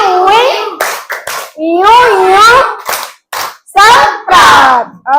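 Children in a sixth-grade Indonesian classroom chant a rhythmic clap routine, bursts of hand claps punctuating their sung call-and-response voices in quick, close, loud phrases.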